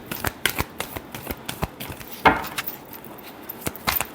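Tarot cards shuffled by hand during a reading: a rapid run of short, crisp riffling snaps and taps close by, with one louder flutter midway and no talk.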